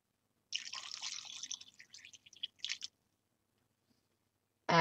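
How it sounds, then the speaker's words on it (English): Water is poured into a pot of beef stew, giving a wet, squishy splashing and dripping that runs for a couple of seconds and then trails off into quiet, close and fairly soft. "I am going to have to add just a little bit more water."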